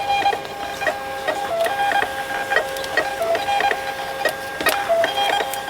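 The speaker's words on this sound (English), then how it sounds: "Just printing off some of our sample boxes" Printer running nonstop while printing shipping sample boxes in a print shop, a steady mechanical whir with rhythmic clicks and tonal motor whines, no talk.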